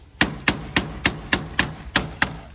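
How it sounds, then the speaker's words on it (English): A hammer strikes a 5-in-1 tool to free a metal window frame from its sill: eight sharp, close taps in an even rhythm, each ringing briefly before the next, with no talking. "I'm just using a 5-in-1 that's designed to be able to hit it with the hammer."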